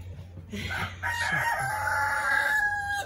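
A rooster crows once, loud and close, the long drawn-out call rising then holding steady, with faint outdoor background and no talking.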